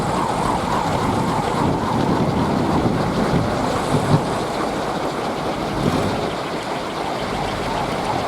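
Steady strong wind blowing outdoors past a large bamboo kolecer windmill, a continuous loud rushing roar with mild gusts and no pauses.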